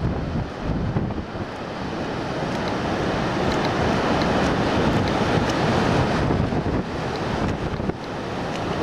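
Ocean waves wash ashore at Ocean Shores beach, Washington, a steady, loud, continuous surf roar with heavy wind buffeting the microphone and no talk.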